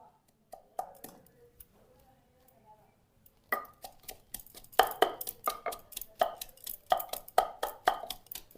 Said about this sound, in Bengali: রসুন, আদা, পেঁয়াজ একসাথে একটু গুটে নিব